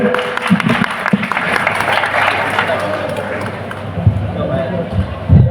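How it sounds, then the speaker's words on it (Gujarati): An audience at an annual music festival claps steadily to welcome Mohanbhai, a poet and retired teacher, the applause sustained and moderately loud with some voices mixed in. "મોહનભાઈને તાળીઓથી વધાવી લે"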